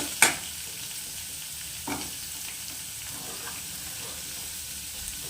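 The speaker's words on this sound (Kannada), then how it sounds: "ಹಾಗೆ ನೆಕ್ಸ್ಟ್ ಈರುಳ್ಳಿ, ಇದನ್ನು ನೀಟಾಗಿ ಫ್ರೈ ಮಾಡ್ಕೊಳ್ಳೋಣ." Onions frying in a pan with curry leaves for a crab dish, a steady soft sizzle throughout with a couple of sharp stirring clinks near the start.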